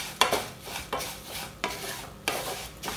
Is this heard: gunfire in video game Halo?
no